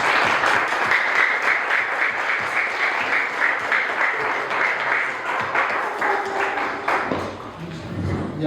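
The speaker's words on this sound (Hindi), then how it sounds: "आइए तालियों के नाल उन्हें आपां वेलकम करांगे।" Church congregation at a Sunday Pentecostal prayer service claps steadily to welcome a pastor, loud continuous applause filling the hall before tapering off near the end.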